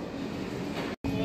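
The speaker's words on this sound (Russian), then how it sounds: "Temir yo'l vokzali." Train noise at a railway station in Uzbekistan for an Afrosiyob train, a steady broad rumble and hiss, close and loud, broken by a brief cut of silence near the end.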